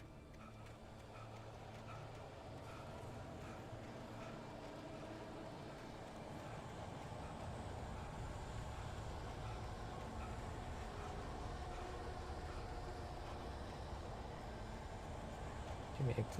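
A low, rumbling train passes in the Alan Wake video game, a steady dark drone that builds slightly toward the end, with talk present.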